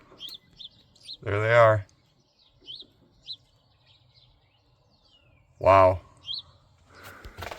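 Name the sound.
baby birds chirping in a nest in a gable vent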